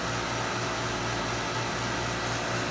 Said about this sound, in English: this is the air conditioner system